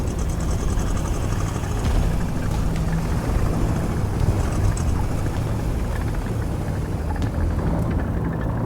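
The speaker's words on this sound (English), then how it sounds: "That is not a friendly engine sound." An enemy tank engine rumbles in the War Thunder video game, a continuous low, heavy drone with a faint mechanical whine, steady and moderately loud.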